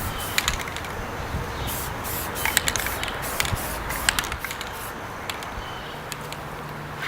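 Spray paint can hissing in repeated short bursts as a dark green camouflage pattern goes on, with steady hiss and small clicks and rattles close by.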